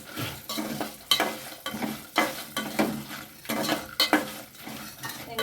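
Chana dal and garlic sautéing in oil in a pan, with repeated metal spatula scrapes and clinks against the pan over a soft sizzle, close and without speech.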